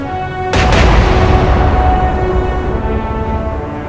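A battleship's big guns fire in the naval game Atlantic Fleet: a single loud, close boom with a quick second crack, followed by a long rumbling decay, with no talk.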